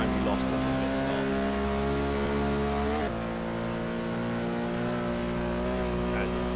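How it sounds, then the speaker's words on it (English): Loud Porsche race car at a Le Mans exhibition event, a steady high-revving engine drone with strong harmonics and a brief dip around a gear change, heard under ongoing commentary. "That's a bloody loud car as well"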